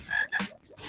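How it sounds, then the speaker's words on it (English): A frog gives a short, loud croak in two quick pulses, close and alone with no talk over it. "I am so sick of hearing about frogs."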